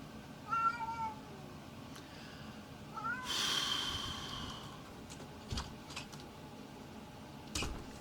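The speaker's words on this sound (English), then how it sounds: "My cat meows." A cat meows a few times, short rising calls spaced apart, fairly close, with a quiet room and a couple of soft clicks in between.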